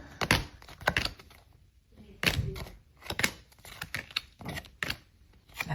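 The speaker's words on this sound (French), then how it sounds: "je suis en train de poser toutes mes cartes un peu n'importe comment" Oracle cards from a large deck are set down one after another on a table, giving a string of sharp taps and thunks at an uneven pace, close and fairly clear, with no talking.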